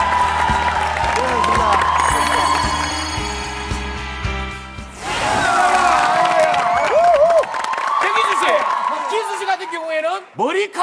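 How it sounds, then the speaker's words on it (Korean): Studio audience on the Korean variety show Star King applauds and cheers for a family jump-rope team, loud crowd noise mixed with music and a host talking over it, continuing for several seconds. "여러분 다시 한 번 더 큰 감동의 박수를 부탁드리겠습니다"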